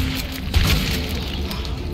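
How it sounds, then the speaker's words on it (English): Shotgun blast in Resident Evil 2 Remake during a boss fight with William, a single low, booming shot around the middle, with game noise throughout. "Shotgun."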